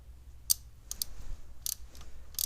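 The cam chain tensioner on a DRZ 125 motorcycle engine, loosened by its set screw, gives a few sharp, light clicks spaced irregularly over quiet low background noise, with no speech.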